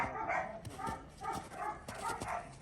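Dog barking repeatedly in a steady series of sharp barks at moderate distance, with no talk over it.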